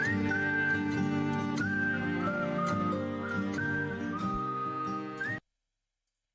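Whistling carries a melody within a pop song: clear, pure sustained notes that glide between pitches over a layered instrumental backing, then the track stops abruptly.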